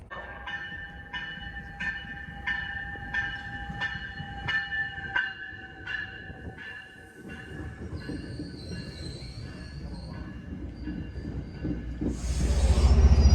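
A train rolls steadily along the rails with a rhythmic clatter and high metallic squeals, growing louder near the end.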